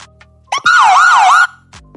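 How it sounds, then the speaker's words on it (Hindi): A siren sound effect plays one short, loud burst, its tone wailing up and down rapidly for under a second, with faint clicks before and after. "सायरन बज रहा है"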